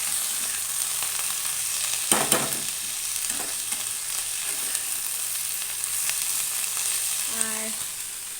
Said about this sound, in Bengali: এখানে সবজি তৈরি করছি, বাঁধাকপি আর ক্যাপসিকাম ভাজা করছি এখানে